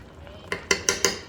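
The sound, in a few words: spreading cream of mushroom soup in electric frying pan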